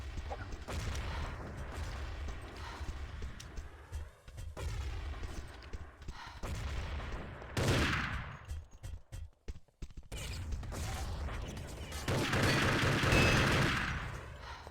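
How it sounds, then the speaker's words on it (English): Gunfire crackles in the first-person shooter Urban Terror during a tournament quarter-final match, with repeated shots and bursts set against steady game ambience and occasional brief gaps. "Nice shots here by Mustang."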